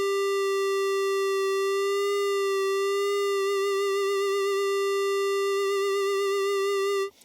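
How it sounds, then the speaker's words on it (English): A Polymoog 203a synthesizer plays one steady square-wave note rich in overtones, and about halfway through, frequency modulation adds a fast, even wobble to the pitch. The tone sounds alone and stops abruptly at the end. "Then we got the frequency modulation for the square wave."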